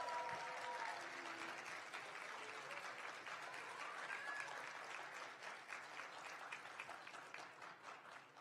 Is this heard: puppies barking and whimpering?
no